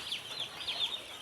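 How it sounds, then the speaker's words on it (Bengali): Broiler chicks cheeping nearby, a quick series of high, thin peeps repeating in a steady pattern. "আমার হলো ব্রয়লার মুরগির বাচ্চাগুলো অনেক সুন্দর"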